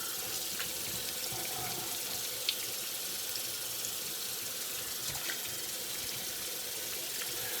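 A tap runs steadily into a sink while a razor is rinsed during a shaving cleanup pass, a soft continuous splash with faint clinks, no voices.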